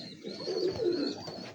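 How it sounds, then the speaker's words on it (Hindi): Pure Kasuri pigeons on a rooftop in Faisalabad give a soft, low rolling coo, close by and alone, rising and falling over a second or so. "प्योर कसूरी कबूतर है ये"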